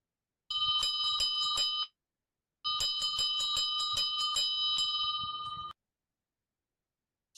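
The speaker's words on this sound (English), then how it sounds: "Maitri, do I hear a bell?" A bell rings out loud and clear in two bursts of rapid, repeated strikes, the first short and the second longer, with silence between them, heard during a librarians' storytelling session.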